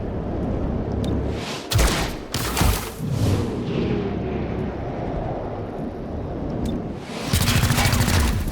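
Gunfire in the XCOM: Chimera Squad video game while a first room is cleared: several loud bursts of shots and booms, set against a continuous rumbling background of game ambience, with no voices.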